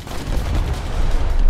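A loud, rumbling explosion in War Thunder swells and rolls on, deep booms building toward the end with no talking.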